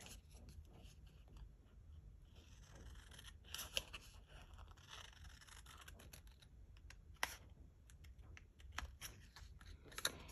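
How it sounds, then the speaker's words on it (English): Scissors snip slowly through paper while cutting out tessellation shapes, a steady run of soft close crunches and rustles with a few sharper clicks, and no talk. "let's go ahead and cut these out."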